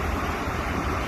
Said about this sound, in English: I am enjoying the incredible sun and the waves